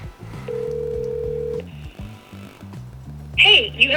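A smartphone places a call to a business support line: a run of quick dialing tones and a steady ring tone over a low, pulsing electronic music bed, followed by a brief burst of sound at the end.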